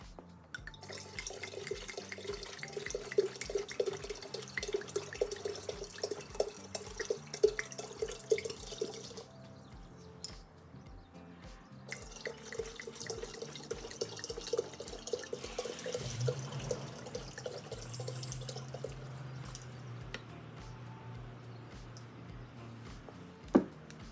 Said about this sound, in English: Now I'm going to add water up to the number 11 line to make 10 parts of water.